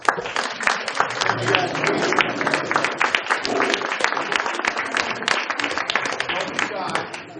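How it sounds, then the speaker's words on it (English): An audience at a teen mental health symposium gives standing students a round of applause, sustained crowd clapping with voices talking over and through it. "Let's give you guys a round of applause"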